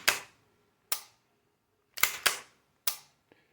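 A Girsan Untouchable 1911 pistol's slide is worked by hand, giving five sharp metallic clacks, two close together near the end, then a faint small click, crisp and near with silence between.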